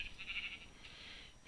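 A sheep in the Minecraft video game gives a single faint, wavering bleat with a short rise at the end, heard alone without talk.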